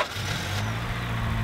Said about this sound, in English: Now we're gonna start it up and see what happens because it's gotten a lot colder since we've been working.